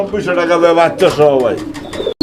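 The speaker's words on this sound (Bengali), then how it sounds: "এখানে আরো এক জোড়া কবুতরের কালেকশন রয়েছে এটা হচ্ছে বোম্বাই কবুতর" Close, throaty cooing from Bombay pigeons rolls on continuously for a couple of seconds, ending with a brief sharp click.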